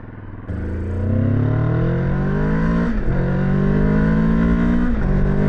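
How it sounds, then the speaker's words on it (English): An adventure motorcycle engine revs up with a deep note through repeated rising pulls, dropping briefly between them, loud and close throughout. "So the first thing I notice is this has a deeper engine note to it, just a little bit."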